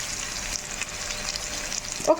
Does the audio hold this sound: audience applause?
no